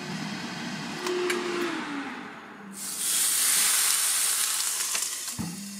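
A low electric hum from a CHEFREE AFG01 smokeless air fryer grill set to 265 degrees gives way to loud, steady close sizzling as meat cooks, with a brief clack near the end.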